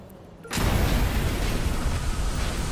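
Explosions in the video game Watch Dogs 2 burst in abruptly after a quiet half-second, then settle into a loud, sustained rumbling roar that fills the rest of the short stretch.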